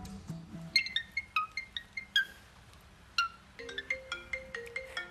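A cockatiel whistles an imitation of the iPhone's default ringtone, with bright repeated chiming notes in a quick, steady rhythm, heard close and clear without talk.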